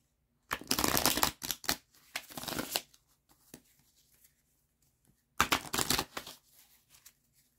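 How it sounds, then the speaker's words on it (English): A deck of tarot cards being shuffled up close in two quick bursts of riffling and slapping, with a short pause between, ending in a few soft taps. "let's shuffle up this deck again"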